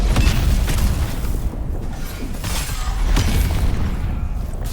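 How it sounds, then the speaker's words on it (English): Cannon blasts boom repeatedly in the action game Enotria, with loud, dense, rumbling bursts over constant combat noise and no clear talking. "That's a cannon, alright."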